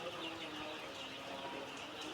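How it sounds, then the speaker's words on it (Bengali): Eleven-day-old colour-breed chicks on a poultry farm make a steady, dense wash of soft chirping and scratching that stays even and fairly faint throughout, with no voices over it. "মুরগিগুলো কি সুন্দর ফুরফুরে দৌড় বাড়তেছে।"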